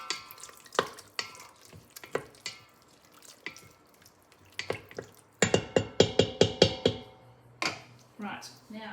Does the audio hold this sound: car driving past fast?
no